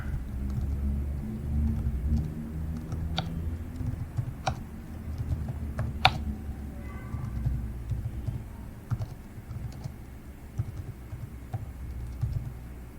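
Someone types on a computer keyboard in a room, with a steady patter of soft key presses and a few sharper clicks, over a constant low hum.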